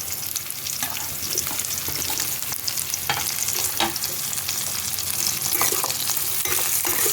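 Red, green and yellow capsicums fry with onions in a pan, giving a steady loud sizzle broken by sharp clicks of stirring, with no voices.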